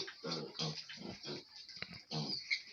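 Sows grunting on a pig farm: a series of low, close, rhythmic grunts in short bursts with brief gaps, and no talking.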